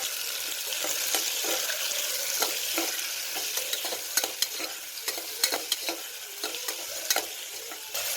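A spoon stirs beans, peas and carrots frying in a pan for a vegetable pulao, with soft steady sizzling beneath irregular scraping and clinking strokes, close up and with no talking.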